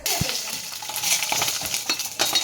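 Hot oil sizzles steadily in a frying pan as garlic is fried, with light metallic clinks and scrapes of stirring scattered through the close, continuous hiss.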